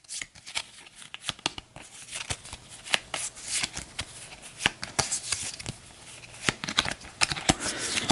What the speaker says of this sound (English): As we're giving it a shuffle